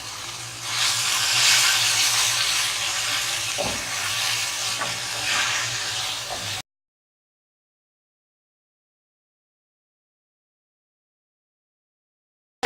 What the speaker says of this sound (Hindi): ये फ्राई हो गया, अब मैं इसमें कीमा ऐड कर दूँ।